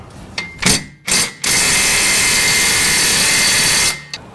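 A 21 mm wrench works a bolt off the suspension of a Jeep Gladiator, a few short close knocks followed by a loud, steady power-tool whir lasting a few seconds, then a final tap.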